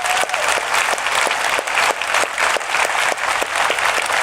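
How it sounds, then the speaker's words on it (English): Steady round of audience applause at the DEF CON 20 hacker conference, dense clapping from a large crowd sustained evenly throughout with no talking over it. "Let's give her a big round of applause"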